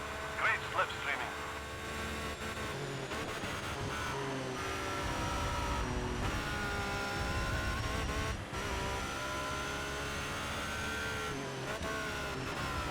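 Racing car engines in ToCA Race Driver 3 during a British GT race, with a pack running close behind a Vauxhall: loud, sustained high-revving engine drones whose pitch rises and falls with gear changes, running continuously for the whole stretch.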